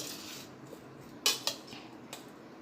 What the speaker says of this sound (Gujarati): હવે આપણે આ મસાલો મિક્સ કરી લઈશું.